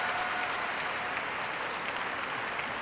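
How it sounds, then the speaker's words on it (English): Arena crowd applauding at a men's short program of the European figure skating championships, a dense, steady wash of clapping from a distant audience with no talk over it. "Hugely popular and getting a fabulous round of applause."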